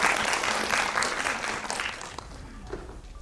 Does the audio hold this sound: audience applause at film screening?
yes